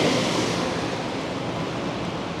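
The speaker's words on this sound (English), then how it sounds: "A bit of a blustery day too." Wind gusts in a steady, loud, broadband rush across the microphone at the corner of Granville and Dunsmuir Streets in downtown Vancouver on a blustery day, with no talking.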